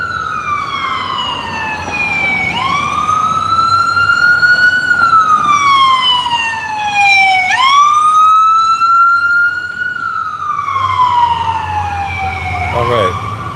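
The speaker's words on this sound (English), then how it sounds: "we have an ambulance" An ambulance siren wails loud and close, rising and falling in long sweeping cycles over the rumble of passing traffic, with a voice speaking faintly underneath.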